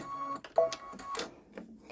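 Short, quiet mechanical whirring and clicking bursts from a Babylock Solaris 3 embroidery machine stitching a floral design, irregular stitch pulses heard close up with no talking.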